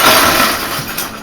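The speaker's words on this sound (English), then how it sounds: "we need some ice cubes." Ice cubes tumbling into a bowl for an ice bath, a brief bright clattering rattle heard close and alone.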